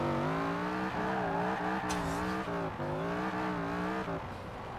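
A Holden car in Forza Horizon 4 accelerates hard through its gears, a loud close engine note that climbs in pitch, drops briefly at each gear change and climbs again several times.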